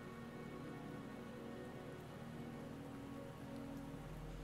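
Steady rain falls in the video game Wuthering Waves, a continuous even hiss of drops on surfaces with a low drone beneath, no voices.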